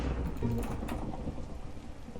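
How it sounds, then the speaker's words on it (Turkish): Thunder rumbling over steady rain in a Minecraft world, a continuous wash of rainfall with a low boom swelling early on, no voices. "Şimşek düştü. O ağaç yanıyor."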